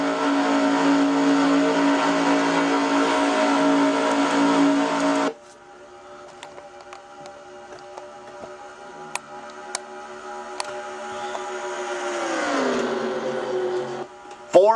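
A race car engine sits on its rev limiter at about 6,800 RPM at Talladega in an International Race of Champions race. It gives a loud, steady, harsh buzz for several seconds, then drops to a quieter running note that shifts in pitch, with faint ticks.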